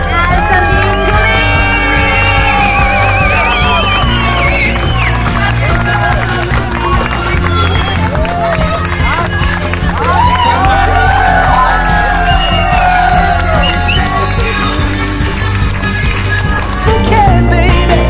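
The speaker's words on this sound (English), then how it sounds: "welcome the newly married Mr. and Mrs. with the loudest roar and applause" Indian wedding guests roar, whoop and applaud as the bride and groom are introduced, a dense loud crowd sound with shouts and cheers over a continuous music bed.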